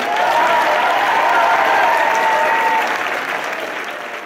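A crowd of pilgrims, just arrived in Lourdes after a ten-hour bus trip, applauds themselves in a dense, steady burst of clapping that holds strong for a few seconds before gradually tapering off.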